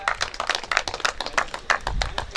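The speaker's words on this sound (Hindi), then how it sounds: "जोरदार ताली बजाया जाए" An audience at a Hindi poetry gathering applauds a poet at a temple consecration event, a dense burst of close, rapid hand claps that holds steady throughout, with a voice faintly underneath.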